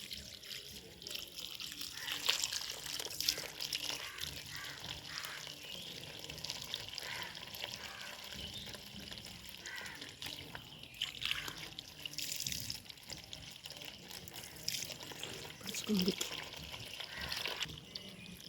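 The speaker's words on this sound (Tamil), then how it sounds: "மெதுவாக தண்ணி ஊற்றுறோம்." Water is poured slowly into a water lily container, a faint, steady trickle and splash that runs on throughout with a little background noise.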